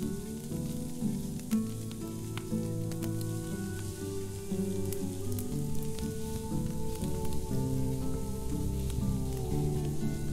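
Meat fries in Medieval Dynasty, a steady soft sizzle and crackle with no talk over it.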